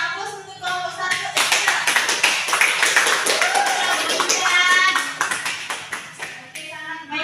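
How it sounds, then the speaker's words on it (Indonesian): A classroom group claps for a student team in a lesson, sustained applause building quickly and holding loud for several seconds before tapering, with voices mixed in. "Silakan kita berikan aplaus untuk kelompok 1."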